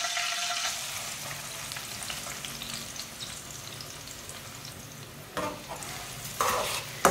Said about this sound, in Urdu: پیاز کو ہلکا سا براؤن کر لیں گے